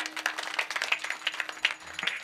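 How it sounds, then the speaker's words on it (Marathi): Audience applause at a kirtan devotional gathering, a brief burst of dense hand clapping heard from within the crowd, steady and moderately loud throughout. "एकदा त्यांच्यासाठी टाळ्या वाजवा."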